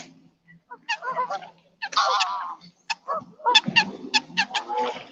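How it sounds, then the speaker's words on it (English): Geese honk on the water in repeated loud, nasal calls, several birds overlapping in uneven bursts nearby, with short quiet gaps between volleys. "Oh, some nice birds over here in the water."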